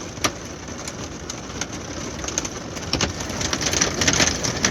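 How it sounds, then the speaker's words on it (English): Marble-sized hail pelting a roof, a dense continuous patter of sharp ticks and clatters growing slightly heavier, with no speech. "we've got hail now. So there's quite big bits of hail."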